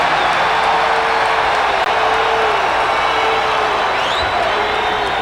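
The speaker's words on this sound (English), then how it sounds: "I think the fans were cheering there because they called the foul on Michael Jordan" A basketball arena crowd during a 1990 Chicago Bulls vs Cleveland Cavaliers game, reacting to a foul called on Michael Jordan: a dense, loud, continuous roar of cheering that holds steady throughout.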